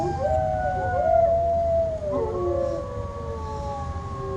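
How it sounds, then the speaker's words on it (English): Several wolves howl together as a radio play sound effect, their long, overlapping wavering howls rising and falling, fairly loud and sustained over a low background rumble. "The howling of wolves was growing less."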